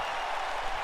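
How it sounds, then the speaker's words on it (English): Steady wash of crowd applause from a wrestling arena in WWE 2K19, a dense continuous roar of clapping heard briefly and evenly throughout. "And the crowd is appreciating it."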